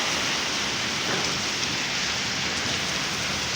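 Heavy rain pours steadily onto a road and a parked motorbike in a dense, even hiss, close and loud, with no voices or pauses.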